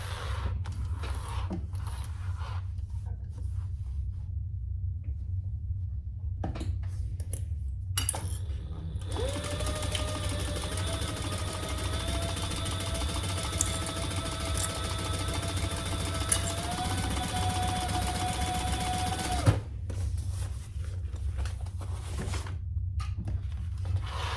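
A home sewing machine stitches a seam on a crossbody bag in one continuous run of about eleven seconds, a steady whirring motor hum over quiet room tone, with brief handling noises before and after.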